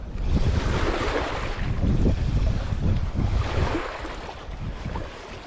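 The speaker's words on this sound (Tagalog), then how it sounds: "Nakakainis kasi ano yung hangin" Strong, steady wind buffets the microphone in a continuous roar, with a wash of water and surf noise underneath at a shoreline fishing spot; no one speaks.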